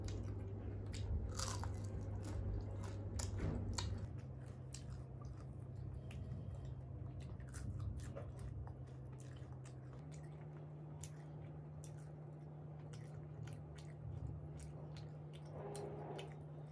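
Close biting and chewing on jalebi (jilapi), fried syrupy sweets, with soft crunches and sticky squishes repeating irregularly over a steady low hum, no talking.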